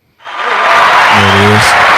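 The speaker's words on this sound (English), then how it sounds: "Hand clap for everybody real fast." A group of people clapping hands, a dense burst of applause that starts abruptly and holds steady and loud, with a voice speaking briefly over it.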